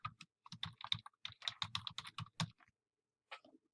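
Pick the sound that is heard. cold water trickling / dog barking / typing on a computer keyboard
typing on a computer keyboard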